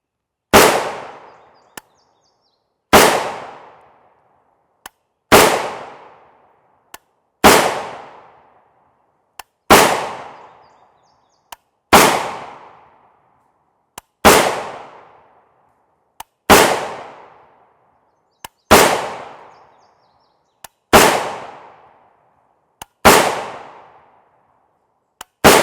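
A 10.5-inch M85 PAP rifle fires 5.56x45mm M193 55-grain FMJ rounds outdoors near woods: about eleven loud, sharp single shots at steady intervals of roughly two seconds, each followed by a short decaying echo.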